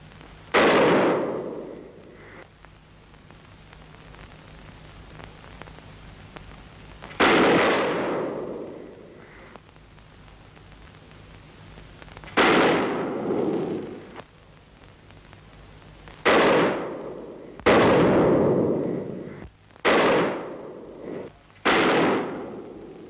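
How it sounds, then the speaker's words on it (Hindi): Gunfire in a 1952 Bollywood film scene: seven or eight loud, sharp shots ring out alone at uneven intervals, several seconds apart at first, then bunching closer together toward the end. "जॉनी, गोली चलाना बंद कर दो"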